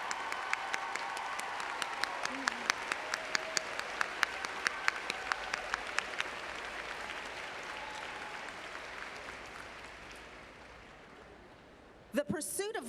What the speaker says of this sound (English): receive another round of applause